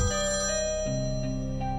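A telephone rings with a steady electronic tone that shifts pitch partway through, sounding clear and close with no voices.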